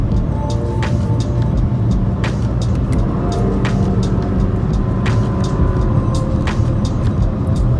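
A Porsche 911 driving in manual mode, its engine a steady, continuous drone mixed with road and cabin noise, loud and unbroken throughout with no voices.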